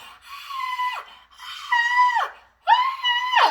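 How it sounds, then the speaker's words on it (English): A woman screams again and again in a TV show, three long, harsh, sustained cries separated by short gaps, loud and close, with no talking. "I don't know if y'all heard the constant screaming."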